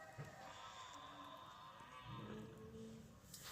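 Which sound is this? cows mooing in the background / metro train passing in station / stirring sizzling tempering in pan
cows mooing in the background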